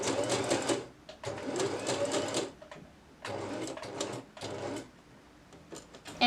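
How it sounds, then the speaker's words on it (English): Home sewing machine stitching a garment neckline with a half-inch seam allowance, running in three steady whirring bursts separated by short pauses, close and clear with no talking. "continue sewing the rest of the neckline with a 1/2 inch seam allowance."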